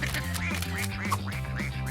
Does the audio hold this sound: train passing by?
no